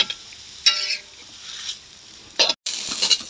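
Rice vermicelli added to hot oil in a pan for Singapore-style fried noodles with soy sauce, uneven sizzling bursts and stirring scrapes, close, with a sharp flare near the end after a brief cut.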